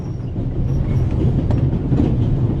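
A train rolls on rails in the video game The Raven, a steady, close, low rumble with faint clicking from the wheels, with no voices.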